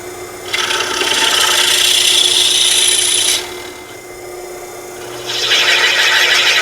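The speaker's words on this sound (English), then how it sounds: "I'm going to drill and countersink that for a number 10 screw" A drill bores and countersinks a screw hole in a Wimshurst machine base, two loud, close bursts of high grinding, rasping noise with a brief lull between them.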